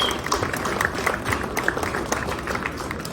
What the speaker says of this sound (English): Let's give them a big round of applause for hanging out and chatting with us.